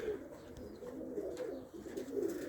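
Pigeons coo softly and steadily at a loft, a low continuous murmur of several birds layered together at moderate distance, with no voices over it.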